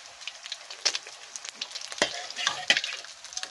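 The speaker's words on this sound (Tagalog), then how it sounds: "dito na lang ako magpiprito sa mga old kong kawali" Ginataang langka cooks in an old wok, frying with irregular sizzling bursts and stirring scrapes against a quiet background. The sounds come close in scattered louder spikes, with no talking.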